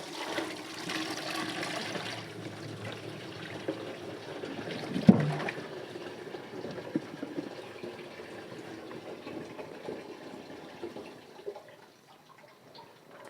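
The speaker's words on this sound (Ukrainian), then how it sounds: "Акуратно зливаємо воду." Water being carefully poured off from a bowl of cleaned, yellow beeswax, a steady close splashing trickle that runs for most of the clip with a brief knock partway through, then tapers off near the end.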